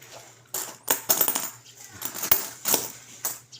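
Old coins clatter and jingle in quick bursts, metallic clinks tumbling onto one another at close range, with a faint steady hum beneath.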